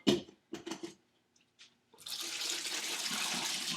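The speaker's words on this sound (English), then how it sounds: "You could even rinse it so that your eggplant's not salty" Tap water runs steadily into a kitchen sink to rinse salted eggplant, starting after a few short clinks and faint handling noises and continuing as a loud, even gush.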